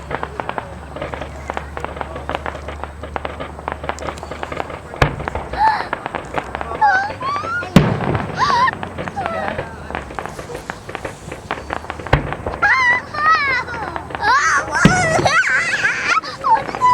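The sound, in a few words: Canada Day fireworks exploding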